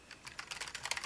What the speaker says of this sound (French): si je me mets à taper